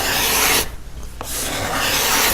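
A steel card scraper is worked to pull a burr, giving close, loud rasping strokes with a brief quiet gap between passes.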